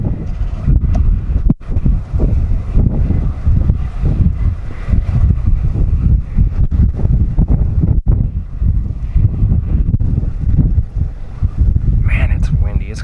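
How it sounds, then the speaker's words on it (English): Strong wind buffets the microphone with a steady, loud low rumble that barely lets up. "Man, it's windy."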